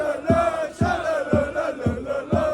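A rowdy crowd of about a thousand European football fans chants in rhythmic unison, loud and close, with repeated surging shouts roughly every half second.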